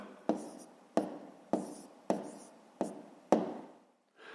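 Pen strokes on paper while working a decimal division exercise, six sharp scratchy marks at a steady pace, close and fairly quiet with no talking.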